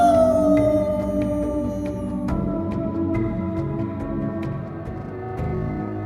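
A wolf-like creature howls in a horror film, a long rising and falling wail that is loud and up close at the start, under a dense, layered eerie musical score of sustained tones and periodic struck accents.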